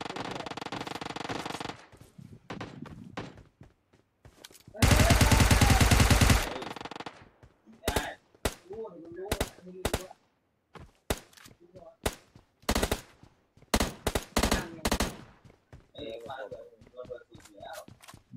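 Gunfire from bots in the PUBG Mobile video game comes as repeated sharp bursts and single cracks spread through the clip, some loud and close, with a player talking between the shots.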